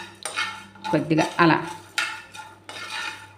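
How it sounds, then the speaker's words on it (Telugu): Coriander seeds and peanuts dry-roasting in a pan, clinking and scraping as a metal spoon stirs them in several distinct strokes, close and fairly loud, with a brief spoken phrase in Telugu between stirs. "వీటిని మనం డ్రై ఫ్రై చేసుకోవాలి."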